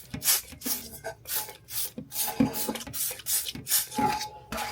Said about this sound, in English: now it's time to clean our tumbler, and I'm just gonna use some degreaser here.